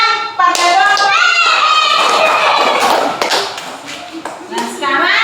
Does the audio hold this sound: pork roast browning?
no